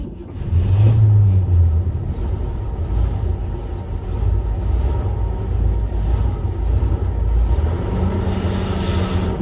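A 1970 Ford Country Squire station wagon, parked for 14 years and smoking, runs its engine in a steady, loud low rumble as it is put in drive and moves off, with wind buffeting the microphone.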